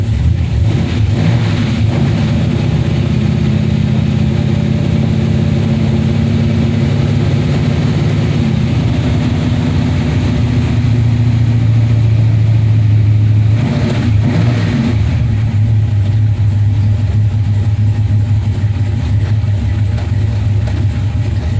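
A car engine with a blow-through carburetor runs continuously, a loud steady low rumble with slight shifts in pitch, close up, no voices.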